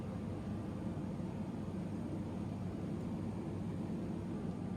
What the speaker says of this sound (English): the strait is very quickly crossed when you're in a turboprop doing 200 knots.